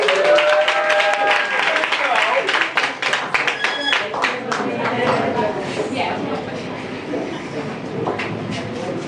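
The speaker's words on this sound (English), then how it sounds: "Everyone, give a round of applause." Audience applause welcomes a poet to the stage, a sustained wash of clapping that holds for several seconds and gradually becomes a looser patter. A voice is heard over it at the start.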